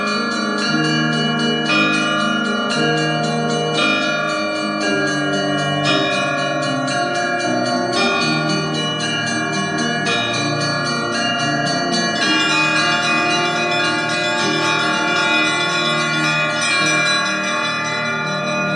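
Church bells ring in a continuous peal, with overlapping bright strikes and long sustained tones repeating in a steady rhythm, loud and close, including a 19th-century bell from the Privalov foundry.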